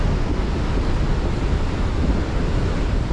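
Strong sea wind and breaking surf along a fishing shore form a loud, steady rumble, with gusts battering the microphone throughout and no one speaking.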